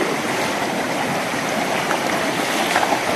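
Rushing water at Penchalakona waterfalls, a dense, steady broadband hiss and splash of fast-flowing water close by, loud and continuous with no voices over it.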